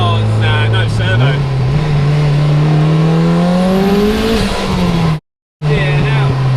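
A turbocharged Lotus engine of about 414 horsepower revs hard and pulls, its pitch climbing steadily as it accelerates, loud and close, then cuts off briefly before resuming.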